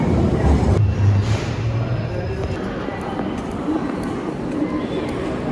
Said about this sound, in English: One more train to get on the Bakerloo line.